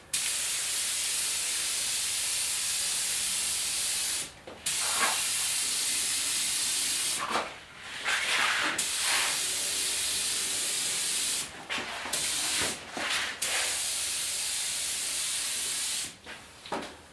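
A sprayer applying wipe-on polyurethane wood finish, a close steady hiss in long bursts broken by several short pauses, loud and alone without talk.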